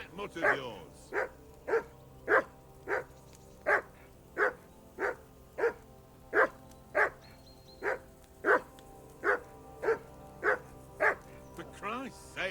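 A dog in Kingdom Come: Deliverance II barks over and over at a steady pace, around twenty regular mid-distance barks, with a short whine at the start.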